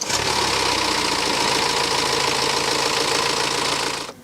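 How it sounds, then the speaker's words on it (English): A BMW car engine running at a steady idle with a rapid mechanical knocking rhythm close by, cutting off abruptly at the end. "once I start the engine up"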